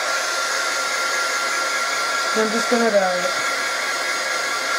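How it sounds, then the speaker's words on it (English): A heat gun blows hot air over thin acetate sheet during alcohol ink heat embossing, a loud steady whooshing roar throughout, with a brief spoken remark partway through. "please excuse the noise of the heat gun"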